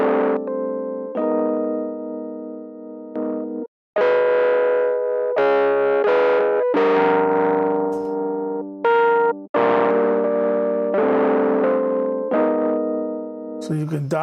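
A free distortion VST plugin saturates a run of sustained, buzzy instrument notes, loud and gritty, changing pitch every second or so with two brief silent gaps between phrases.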